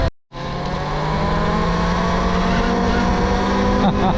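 Electric dirt bike, a Stark Varg or Talaria Komodo, riding along with a steady loud motor whine and rushing wind noise, close and continuous after a brief dropout at the start.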